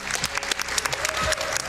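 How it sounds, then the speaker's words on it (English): Crowd applause at a Dying Light gaming competition event, a steady close burst of many hands clapping throughout, with a voice faintly mixed in. "can we actually get self-applause to the crowd?"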